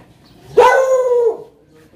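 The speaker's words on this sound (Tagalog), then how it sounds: "Laki ng aso." A big dog lets out a single loud, drawn-out bark that rises sharply and tails off, close by against an otherwise quiet background.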